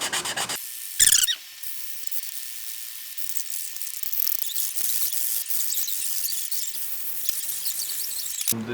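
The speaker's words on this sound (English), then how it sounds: "Grab a little sanding block. Just sand those off." A small sanding block rubs off the wooden holding tabs left on a CNC-carved workpiece, giving a close, steady, continuous scratchy rasp that runs for several seconds after a couple of brief opening strokes.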